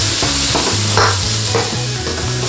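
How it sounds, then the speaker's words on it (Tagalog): Spicy pork and shrimp with spring onion fry loudly in a pan while being stirred, a dense sizzle broken by rhythmic scraping strokes of the utensil close by, with no voice. "stir lang po natin siya ng another 1 to 2 minutes"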